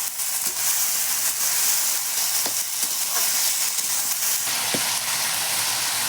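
Malabar spinach cooking with turmeric and mustard paste in a pan: a steady, loud sizzling hiss continues as water goes in, with a few faint clinks and stirs.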